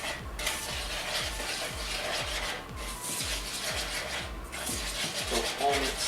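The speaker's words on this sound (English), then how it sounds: "Stir it." A spoon scrapes and rubs steadily through a gluten-free pizza dough mixture in a bowl, a close, regular rhythmic stirring lasting several seconds at a moderate level.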